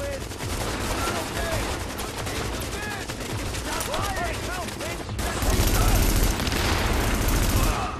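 Rapid blind-fired gunfire in The Division, dense bursts of automatic shots crackling almost continuously before heavier, louder fire takes over near the end, with talk mixed in.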